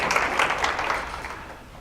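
An audience applauds to welcome a speaker, a steady wash of clapping from many hands that fades slightly toward the end.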